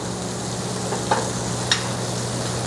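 Crab cake frying in butter in a pan, a steady soft sizzle throughout with two brief clicks of utensil or pan contact, no voices.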